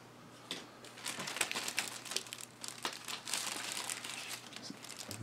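Plastic packaging for an Axial SCX24 RC crawler sticker kit and window masks crinkles and rustles close up in a steady run of crisp bursts, with no talking.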